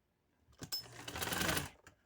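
A sewing machine stitches a neckline on lawn fabric in one close, steady whirring run of about a second, starting and stopping abruptly in an otherwise quiet room.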